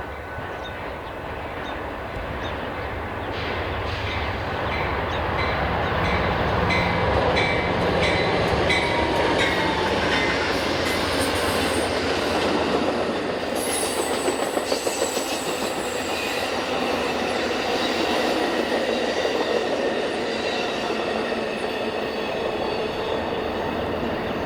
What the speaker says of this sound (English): Here comes our Southwest Chief. Westbound Amtrak train in Naperville.